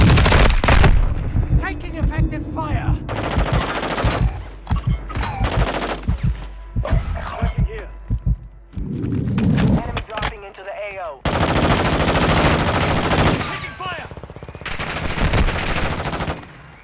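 Call of Duty firefight with rapid automatic weapon bursts and single shots cracking close and loud, broken by short pauses and heavier booms, alongside shouted radio-style voices calling out enemy contact.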